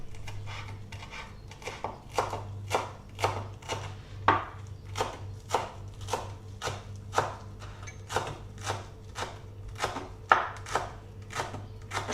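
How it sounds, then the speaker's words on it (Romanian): A knife finely chops parsley on a board in a steady rhythm of sharp, close taps, roughly two per second, over a faint constant background hum, with no talking. "Și pătrunjelul îl tocăm mărunt."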